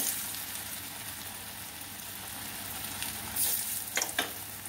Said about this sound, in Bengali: এবার সবগুলো আমি ভেজে নেবো।